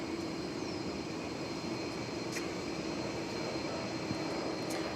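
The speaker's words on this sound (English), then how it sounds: "It's an Airbus A321." An American Airlines Airbus A321 jet taking off roars steadily from a distance, with a constant engine drone and faint higher whine, heard alone without talk.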